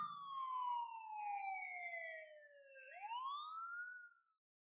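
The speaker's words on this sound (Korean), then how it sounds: "갑자기 사이렌 소리가 났다." A siren gives a long wail that slowly falls in pitch, then sweeps back up and fades out, heard alone and fairly clear against silence.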